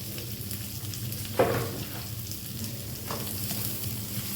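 Medium chopped onion frying in melted butter in a pan, a soft steady sizzle with a single louder stirring scrape partway through and another faint one later.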